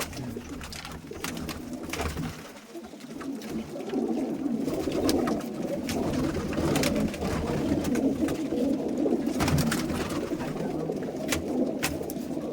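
Pigeons of a flying breed coo steadily at close range, a soft continuous burble with occasional wing flutters and rustles throughout.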